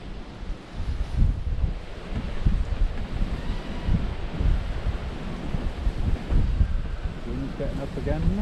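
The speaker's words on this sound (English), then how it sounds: "Wind's getting up again, isn't it?" Gusts of wind buffet the microphone at a lakeside fishing venue, a rough, rumbling roar that swells and dips throughout, with people talking faintly underneath.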